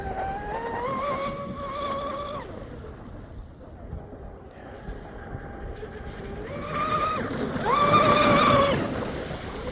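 A Blackjack 42 RC boat with a TP Power 5660 motor on 12S power and a Castle Creations Cobra ESC whines across the water, its high electric pitch fading as it passes into the distance and then swelling loudly as it returns.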